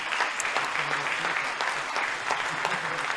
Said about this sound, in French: On applaudit Nathalie Naï